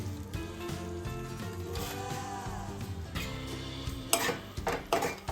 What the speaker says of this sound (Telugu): వీటన్ని మంచిగా మిక్స్ చేసుకుందాం